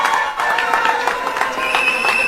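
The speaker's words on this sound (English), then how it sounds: "So can we give them a round of applause?" Applause from an audience at a UNC political victory gathering, a steady wash of clapping lasting a couple of seconds, moderately loud and fairly close, with a murmur of crowd voices mixed in.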